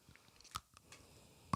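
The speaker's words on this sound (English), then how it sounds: "Sorry about all of the chewing sounds you're hearing" Soft, close chewing of a Buc-ee's Overbite milk chocolate caramel bar, with a few brief wet crunches and squishes separated by quiet pauses.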